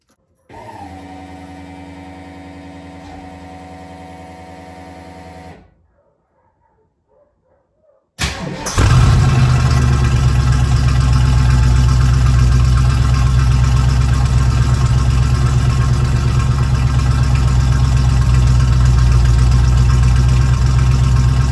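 A 1973 Ford Mustang Mach 1, freshly fitted with a new fuel tank and fuel system, first runs a steady motor or pump hum, pauses, then cranks briefly and fires into a loud, continuous idle.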